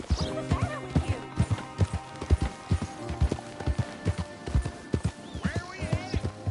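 Hooves clip-clop in a quick galloping rhythm as a horse runs in Red Dead Redemption 2, with a whinny rising over the beat and characters talking over the steady hoofbeats.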